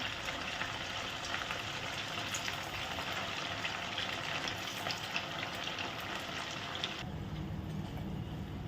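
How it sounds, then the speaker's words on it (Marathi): Fasting-style medu vada frying in hot oil, a continuous dense crackling sizzle that stays close and even, shifting slightly in tone near the end. "अशाही पद्धतीने तुम्ही वडे तेलामध्ये सोडू शकता"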